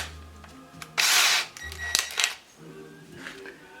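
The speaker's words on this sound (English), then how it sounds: "Next, we'll drill the holes." A Milwaukee power drill with a brand new bit bores holes for mounting a Warn winch, a loud burst of whirring grind for about half a second, then a shorter second run after a pause.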